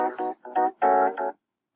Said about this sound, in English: I want some sort of electric piano sound.